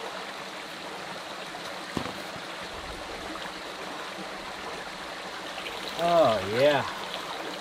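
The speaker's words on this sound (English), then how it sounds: "Honest to goodness, crystal clear flowing water in Alamo Canyon." Crystal-clear water flows in a stream in Alamo Canyon in the desert as a soft, steady trickle, and a person speaks briefly near the end.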